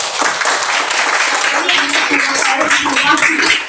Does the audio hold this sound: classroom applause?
yes